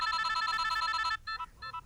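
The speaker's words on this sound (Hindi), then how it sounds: "उसी का फोन आ रहा है।" A telephone rings with a bright electronic trill, loud and steady for about a second, then breaks into shorter repeated bursts of an incoming call.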